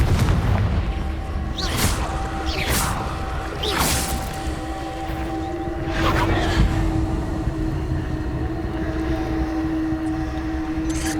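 Several loud Confringo fire-spell explosions in the Hogwarts Legacy video game, broad booming bursts at irregular intervals over a steady low game ambience with a faint sustained hum.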